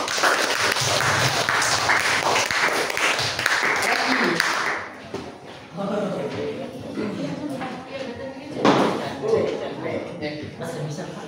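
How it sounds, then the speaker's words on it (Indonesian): Classroom applause from students breaks out loud and dense for several seconds, then fades into scattered claps and murmuring chatter. "tepuk tangan untuk Robi."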